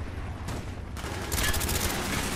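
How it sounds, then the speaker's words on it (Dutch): A sentry gun in Call of Duty: Black Ops opens up with rapid automatic fire, a dense, continuous rattle of shots that grows louder and sharper partway through, over steady background game noise. "Sentry gun"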